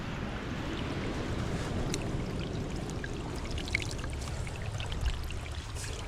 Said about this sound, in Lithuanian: Nu geras šaltinis čia teka.